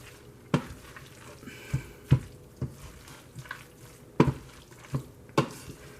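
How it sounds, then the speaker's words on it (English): Canned corned beef hash frying in a pan and being stirred, a low sizzle broken by several sharp scrapes and clacks of the spoon at uneven intervals, quiet and close, with no talking. "I'm going to stir this all around,"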